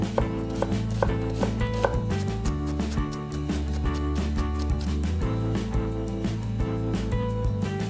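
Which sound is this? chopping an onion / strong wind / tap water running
chopping an onion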